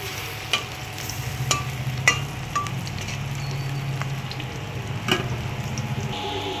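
Bora fritters frying in a pan, a continuous close sizzle broken by several sharp clinks and scrapes of a spatula against the pan at irregular intervals.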